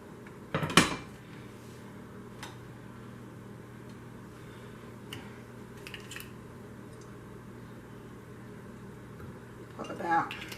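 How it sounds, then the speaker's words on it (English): A metal cooking pot clanks sharply onto a stovetop, and a faint pour of olive oil follows, with a few softer kitchen clinks and a second clatter near the end in a quiet room. "let me put my pot on and put some oil in it."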